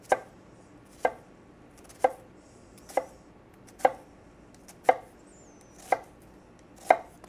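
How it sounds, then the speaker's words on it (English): A knife chops down through an onion on a cutting board, eight sharp, evenly spaced knocks about a second apart, close and clear against a quiet background with no talking. "Next, we're going to slice down into the onion across the onion"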